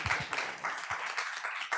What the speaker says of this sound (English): and again, a big round of applause for our